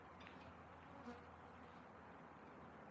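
Honeybees swarm around a hive being set up, their dense, continuous buzzing humming steadily and close throughout without any voices.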